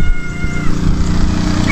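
A cat gives a loud, drawn-out meow close by, over a noisy rumbling background.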